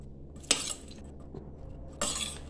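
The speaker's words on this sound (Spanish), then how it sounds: "removemos los ingredientes" A spoon clinks twice against a cooking pan while onion and crushed garlic are stirred, two sharp, close metallic knocks separated by quiet scraping.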